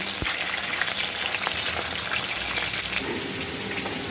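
Fish heads fry steadily in hot oil with a constant crackling sizzle and a few louder pops, with no talking.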